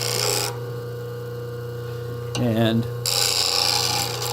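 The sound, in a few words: grinding a plane blade on a grinding wheel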